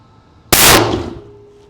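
A single close, loud rifle shot from a Ruger American firing Hornady 175 grain bullets at a 100-yard range, a sharp crack followed by a decaying ringing tail and echo.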